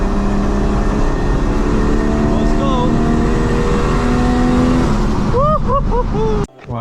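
Audi S3 engine droning steadily through a POV drive, loud and continuous with a rising tone, occasional chirps on top, then an abrupt cut near the end.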